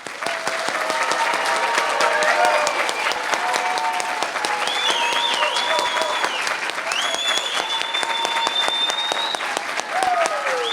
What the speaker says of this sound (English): please join me in applauding their accomplishment.